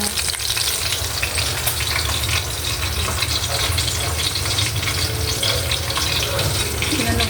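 Boneless milkfish (bangus) fries in a pan with a loud, dense, unbroken sizzle that holds steady the whole time, close up, with no talking.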